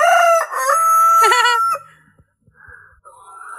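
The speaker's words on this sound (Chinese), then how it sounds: "每天就跟这些鸡呀、鸭子啊为伴。" A rooster gives a loud, close crow, followed by softer clucking from chickens in a remote mountain village yard in Guizhou.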